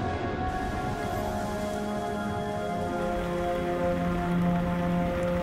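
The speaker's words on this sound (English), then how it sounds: "creating thunderstorms and heavy rain" Heavy rain from an equatorial thunderstorm over a Pacific atoll, a dense continuous hiss of falling water at an even level, with faint steady tones beneath.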